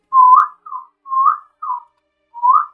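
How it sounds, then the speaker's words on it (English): A small whistle or flute sounds five short, clear, piercing notes, each rising slightly at the end, loud and close with brief silences between and no voices. "he pulls out a small, it looks like a small whistle or a flute, and plays just one tune"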